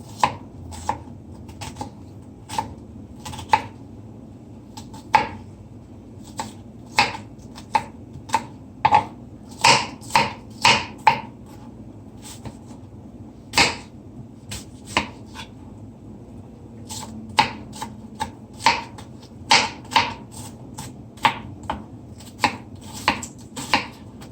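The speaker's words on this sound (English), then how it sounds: "This is half of the onion. You just wanna ensure you're just gonna cut this as fine as possible." Knife chopping half an onion as finely as possible for Jamaican ackee and rice, sharp close taps coming in irregular bursts and quick runs against the board, with no talking.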